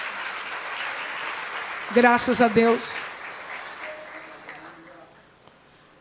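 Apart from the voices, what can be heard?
church congregation applauding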